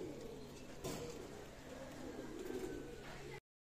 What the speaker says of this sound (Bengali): এক জোড়া রানিং পেয়ার কবুতর দেখাচ্ছি